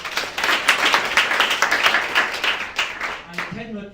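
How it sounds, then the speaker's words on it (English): Clapping from a Global Entrepreneurship Week audience for the judges, a brisk round of many hands that tapers off as a voice starts speaking. "Another quick round of applause for my judges."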